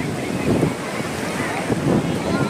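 Sea waves wash onto a seashore where people are bathing, a steady close surf swell rising and falling twice, mixed with wind buffeting the microphone.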